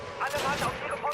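Rifle fire in the video game Call of Duty sounds as a dense, continuous burst of rapid shots, loud and distorted across the short stretch. A voice partly overlaps the shots.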